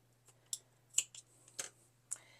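Scissors snipping thread on a handmade leather watchband keeper, a few quiet, sharp cuts and small clicks spaced out in a hushed room.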